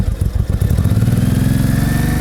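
Close, loud engine of a vintage motorcycle idling steadily to warm up, with an even pulsing beat, outdoors at an old-timer bike fair and flea market in Lodz.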